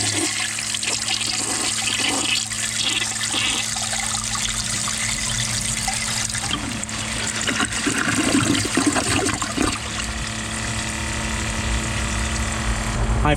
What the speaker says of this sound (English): I think this round bowl Ingenium siphoned a little bit faster than this one